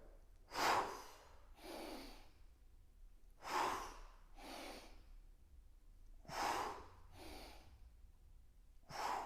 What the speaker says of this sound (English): Exhale up. And you can do a hard exhale.